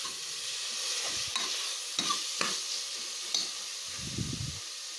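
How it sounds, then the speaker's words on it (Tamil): Mutton pieces coated in masala are stirred and fried in a pressure cooker for biryani, giving a steady close hiss of frying broken by several scraping spoon strokes and a low rumbling stir near the end. "மட்டனையும் சேர்த்து நல்லா மிக்ஸ் பண்ணிக்கலாம்."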